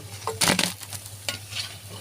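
Chicken chops made with lentils deep-frying in hot oil until red and crisp, a soft sizzle with a few sharp clatters and scrapes of a utensil near the start, close and without speech.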